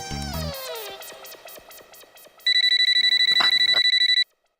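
A tonal melody plays, then an electronic phone ring sounds in rapid pulsing bursts for about two seconds, loud and close, before stopping.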